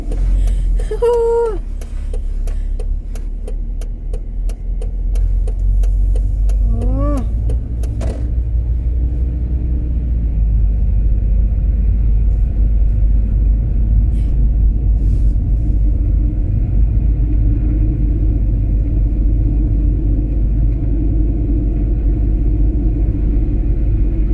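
A car cruises at about 50 on a road in Germany, its low engine and road rumble steady and loud throughout, with a few brief higher chirps and squeaks early on over the constant drone.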